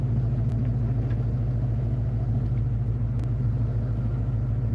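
A car drives steadily, its engine a constant low rumble with road noise underneath, close and even throughout with no pauses.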